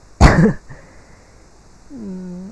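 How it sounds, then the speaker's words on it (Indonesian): A single sharp, loud cough rings out close up, followed by quiet and then a faint tonal sound. "Itu mohon maaf ini saya batuk-batuk."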